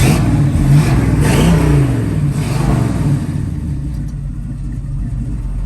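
A 1967 Chevrolet Camaro engine revs up, swelling to a loud, deep rumble, then settles into a steady, throaty idle, close by with no talking.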